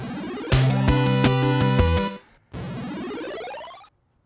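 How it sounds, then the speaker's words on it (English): An 8-bit, Donkey Kong-style chiptune effect with buzzy square-wave tones stepping rapidly in a stuttering pattern. A brief gap follows, then a sustained harsh synthetic tone that cuts off abruptly. "there's this like Donkey Kong effect."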